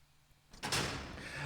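A door opens in the video game Resident Evil Zero on Switch: a quiet lead-in, then a sudden loud whoosh and rumble around midway that stays heavy and sustained to the end, with no talk.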